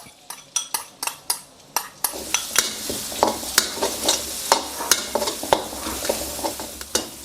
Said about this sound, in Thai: พอน้ำมันเริ่มร้อนใส่พริกกระเทียมที่เราโขลกไว้ลงไปครับ